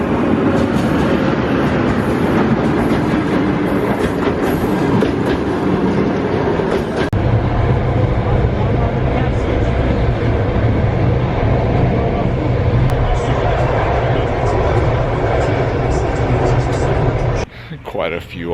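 Steady rumble of a moving passenger train bound for Bukhara, Uzbekistan, with continuous rolling wheel and carriage noise that shifts to a deeper drone partway through, heard close from inside throughout.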